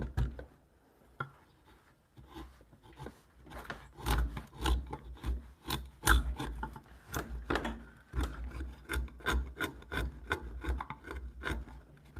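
A chisel carves a wooden spiral ribbon rail against the curve in a workshop, giving repeated rasping, scraping strokes at a close, uneven rhythm with no talk.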